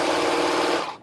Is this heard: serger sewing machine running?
yes